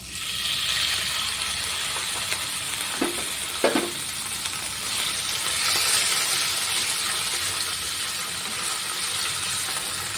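Chopped chicken pieces go into a hot oiled frying pan, giving a steady, close sizzle throughout with a couple of brief knocks partway through and no talking.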